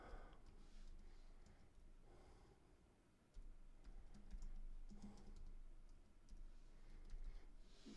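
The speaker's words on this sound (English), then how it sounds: "So I can type in a keyword." Fingers type a keyword on a computer keyboard, a quiet run of soft irregular key clicks close by with a faint background hiss and no voices.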